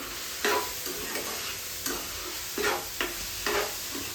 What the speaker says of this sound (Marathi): तिकडे थोडासा कांदा देखील परतते